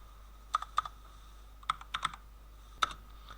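A computer keyboard is typed on in short, light bursts of keystrokes, clicks spaced irregularly and fairly close in an otherwise quiet room with a low steady hum.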